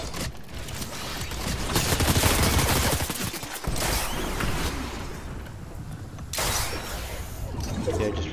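Rapid volleys of gunfire in the video game Fortnite, loud, dense bursts of shots that rise and fall in intensity with brief drops, forming a near-continuous battle din.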